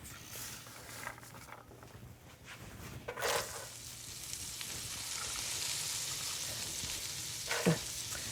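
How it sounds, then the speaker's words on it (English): Steady crackling sizzle of chopped carrots frying in butter in a hot pan, with a few scraping stirs and a brief clatter of a utensil near the end. "That's a good little sizzle there."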